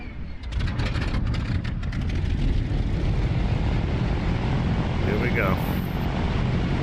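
A scale Fw-190 model aircraft engine drones steadily in flight at around 1200 RPM, a loud, continuous buzz under a brief spoken remark at the start and wind-like rumble throughout.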